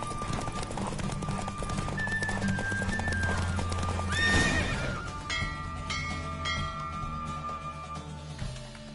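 Roach, a horse in The Witcher 3, gallops with a rapid, steady clip-clop of hooves, and a whinny rises midway through a busy game mix with music and ambient tones.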